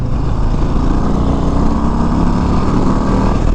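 A 2024 Harley-Davidson Low Rider ST rumbles continuously under load on a test ride, its deep, loud engine drone steady and close, mixed with rushing wind.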